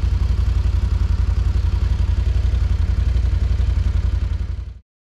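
2025 Can-Am Outlander XT-P 1000R ATV engine idling close by, a steady low throbbing putter with rapid even pulses that cuts off abruptly at the end.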